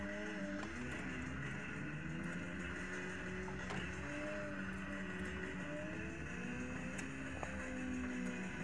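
Engine of a car in a Sega R Tuned upright arcade racing machine, a steady droning roar with shifting pitch that runs continuously throughout, with arcade cabinet noise around it.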